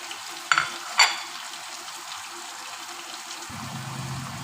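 Mango pickle with melting jaggery cooks in a pan, a low steady sizzle broken by two sharp spoon knocks early on, then a soft bubbling murmur near the end, close and without talk.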